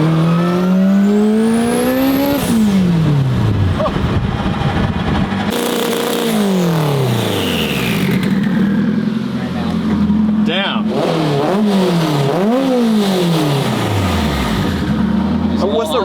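A 1000 hp all-wheel-drive supercar engine roars loudly through hard acceleration runs, its pitch climbing and dropping through repeated gear shifts, close and continuous, with people talking over it.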